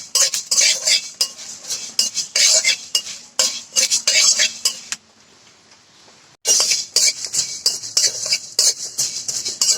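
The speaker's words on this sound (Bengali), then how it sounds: "এই মশলা একটু ভাজা হয়ে উঠেছে" Ground spices for a sweet-sour-spicy mango pickle, with cumin about to go in, are stirred in a pan: rapid metallic spoon scrapes and clinks in bursts, a short quiet pause midway, and no voices.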